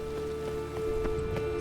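Steady rain pattering in The Witcher 3, a continuous even hiss of drops under a low in-game tone with no voices.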